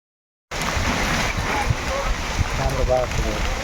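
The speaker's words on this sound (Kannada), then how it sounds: "ಸೊ ಫುಲ್ಲು ಜೋರಾಗಿ ಬರ್ತಾ ಇದೆ ಮಳೆ." Heavy rain pours steadily onto a camera standing outdoors during a village fair, a dense continuous wash of close drumming and splatter with occasional louder drops.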